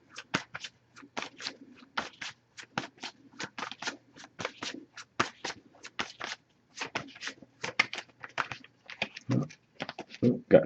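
Tarot deck being shuffled by hand, a steady run of crisp riffling card clicks and soft slaps, close and fairly quiet, with occasional faint low noises beneath.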